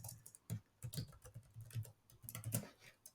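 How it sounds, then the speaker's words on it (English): Quiet computer keyboard typing as a short note is entered, with irregular bursts of soft clicking keystrokes heard up close and alone. "I typed in a little note"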